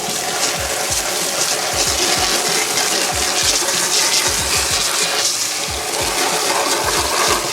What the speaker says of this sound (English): you just have to keep rinsing it until the water turns clear and there's no more bubbles